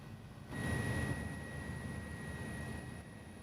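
Steady low engine rumble of a helicopter passing overhead, rising suddenly then holding constant, with a thin high whine above it; no voices.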